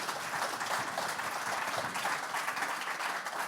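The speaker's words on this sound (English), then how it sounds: "Can we give Jessica and Michael another round of applause for joining us today?" Applause from a seminar audience thanking two political scholar panel guests, a steady dense wash of clapping held at moderate, even level throughout without talk.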